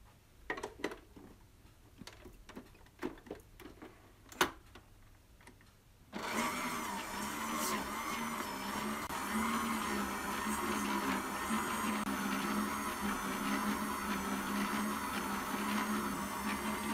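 An electric mixer beats room-temperature butter and sugar in a mixing bowl for chocolate chip cookies, starting after several clinks and knocks and then running as a steady, close motor whir with a grinding, rattling texture.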